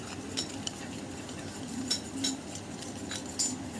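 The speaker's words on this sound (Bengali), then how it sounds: "অল্প অল্প করে দিয়ে ব্যাটারটা নাড়িয়ে নেব।" Vanilla sponge cake batter being stirred by hand as flour is added a little at a time, with a spoon or whisk scraping and lightly clinking against the bowl in scattered taps over a soft background.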